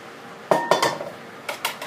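A wok is set down on a stove in a home kitchen before stir-frying pink rice noodles: a few sharp metallic clanks in two pairs, close by, with no talking.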